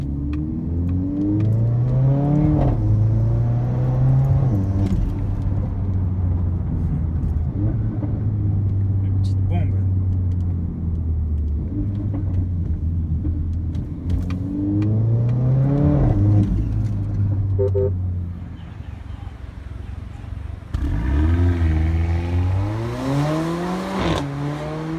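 A Mercedes A45 AMG with a 2-litre turbo engine accelerates hard, close by and loud. Its engine note climbs through rising revs again and again as it pulls through the gears.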